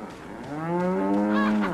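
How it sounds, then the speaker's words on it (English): Cattle low with a long, rising moo in the Resident Evil 4 village setting, heard alone and fairly close, a single drawn-out call lasting most of the moment. "These cows right now."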